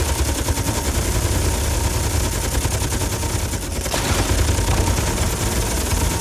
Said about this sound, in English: I'm going to fire some rockets off to see how well its point defences cope